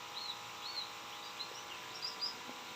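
A straw-headed bulbul in a small home aviary on a rainy morning gives short, high chirps, a few scattered faint notes over a steady background hiss.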